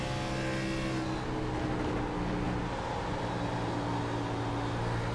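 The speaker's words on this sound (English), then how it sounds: "You can hear those tires. They are just a screaming." A race car runs at Kansas in an in-car view, its engine droning loud and continuous, with tire noise mixed into the roar and no voices.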